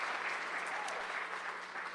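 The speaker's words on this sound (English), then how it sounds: "Yes, give yourself a round of applause." Steady applause from the audience at a George Carlin tribute show fills the whole room, dense and even throughout.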